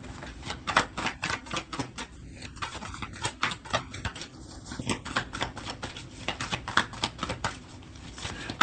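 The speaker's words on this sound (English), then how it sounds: "Let me get another card and see." Tarot cards being drawn from a deck: a steady run of crisp, close card flicks and taps at an uneven, quick rhythm, with no talking.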